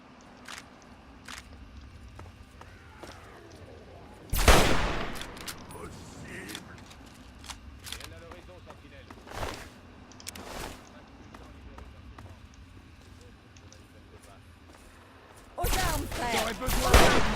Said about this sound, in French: Hop, on prend son pistolet laser, bien sûr.